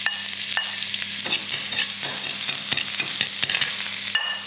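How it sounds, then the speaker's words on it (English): Garlic and mixed vegetables, including mushrooms, stir-fried over high heat in oil in a wok: a steady close sizzle with repeated scraping and tossing strokes from the spatula, with no voices. "I'm going to go on a high heat in my wok to stir fry my veg"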